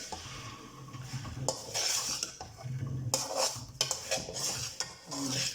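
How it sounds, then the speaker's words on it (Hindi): Semolina halwa with desi ghee stirred without pause in a pan, a spoon scraping and knocking against the metal in uneven strokes over a faint sizzle, close and fairly quiet. "तो इसे मुसलसल हिलाते हुए आप लोगों ने पकाना है।"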